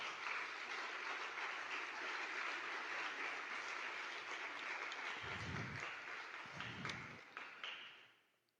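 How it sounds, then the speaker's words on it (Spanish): Applause from a church congregation at a Sunday service, a dense, even wash of clapping that carries on for several seconds with a few low thumps near the end before fading out. "Denle un gran aplauso al Señor"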